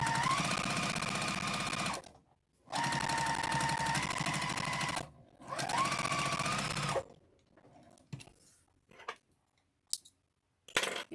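A domestic sewing machine stitches wavy lines on a quilted zipper case, running in three steady whirring bursts with brief pauses, then stopping with a few scattered clicks and taps.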